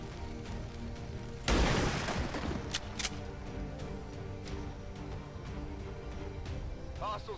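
A gunshot in the turn-based strategy game XCOM 2 lands as one loud, sharp burst early on, followed by a few smaller impacts and a steady game soundscape underneath.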